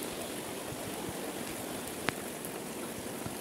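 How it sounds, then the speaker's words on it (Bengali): Steady rain falling on a Chinese duck farm, a constant soft hiss of drops with one sharp tap standing out, fairly faint and with no talking. "বৃষ্টির শব্দ শুনতেই ভালো লাগতেছে"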